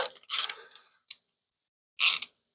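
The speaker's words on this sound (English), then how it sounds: "I'm feeling the crush washer seal crush. Click. It's torqued properly." A torque wrench tightens a spark plug on an Audi A8, giving a few short, sharp mechanical clicks and ratchet sounds in quick succession, then one more crisp click after a pause, close and alone.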